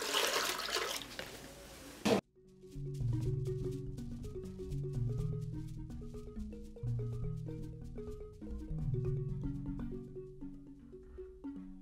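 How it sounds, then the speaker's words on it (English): Water is poured into a cooking pot of pounded ingredients for Gambian pem bem, a loud, splashy rush lasting about two seconds before music takes over. "And I'll add some amount of water in there."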